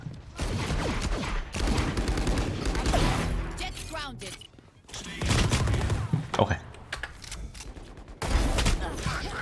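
Stinger submachine gun firing in Valorant team deathmatch, rapid bursts of gunfire in several loud clusters with brief pauses between, mixed with other game effects.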